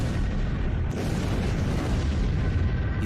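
A deep, sustained rumbling roar fills the clip, loud and unbroken, like the drawn-out aftermath of a massive blast: the Tunguska explosion above Siberia's forest.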